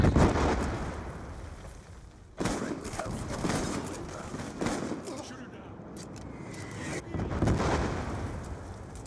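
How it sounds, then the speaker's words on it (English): Hellstorm missile strike in the Black Ops II video game, bringing a series of heavy explosive booms and bursts of gunfire spread across the stretch, with player voices talking in between. "Friendly Hellstorm missile inbound."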